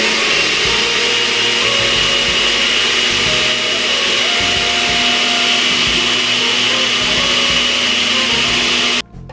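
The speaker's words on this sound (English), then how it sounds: "So what we're going to do now is we're going to blend them." Blender whirring as it purees walnuts with sour cream and milk for a walnut sauce, a loud steady motor hum with slight shifts in pitch as the mixture churns, running nearly ten seconds before switching off.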